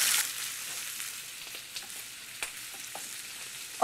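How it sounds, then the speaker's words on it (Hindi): Grated onion with cumin fries in groundnut oil, a steady soft sizzle with faint crackles and occasional stirring clicks, no voices. "अब बस प्याज को पिंक होने तक भूंज लेंगे"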